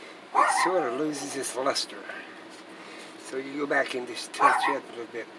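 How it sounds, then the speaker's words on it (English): Dogs bark and yip intermittently in the background while someone talks steadily about touching up paint on a wall hanging, the barks partly masked by his voice. "Sorry about the dog barking."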